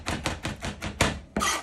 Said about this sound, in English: Just keep chopping along.